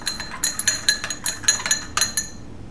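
A spoon stirring table salt into water in a glass, giving quick bright clinks against the sides in an irregular rhythm for a couple of seconds, close and clear, then stopping.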